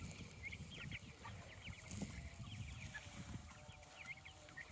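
Chickens and turkeys on open pasture, with repeated soft clucks and short calls from several birds at moderate distance over a low outdoor background.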